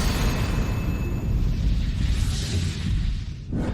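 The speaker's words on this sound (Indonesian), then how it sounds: "Batu meledak." A stone bursts apart in an animated fantasy drama, a sustained booming explosion with a rushing rumble that swells and then cuts off abruptly near the end, heard alone without voices.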